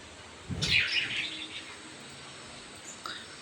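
Pet budgerigars give a short burst of bright chirps as they are fed on a rainy day, then a brief faint call follows against a quiet background.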